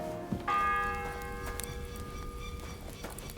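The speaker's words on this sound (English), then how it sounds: "The fourth bell." Video game church bell rings out clearly with sustained ringing tones, set against a busy game soundscape with horse clip-clop and ambient noise at steady loudness.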